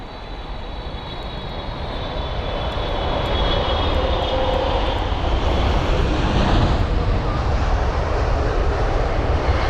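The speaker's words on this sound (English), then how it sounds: "We have the Qatar 777-300ER from Doha." A Qatar Airways Boeing 777-300ER arriving from Doha at London Heathrow makes a continuous roar of jet engines that builds gradually and holds strong, with no voices.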